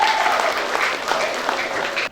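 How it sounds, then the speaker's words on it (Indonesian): Lively audience applause at a formal Indonesian gathering, dense continuous clapping from a crowd that holds steady for about two seconds and then cuts off. "Tepuk tangannya meriah."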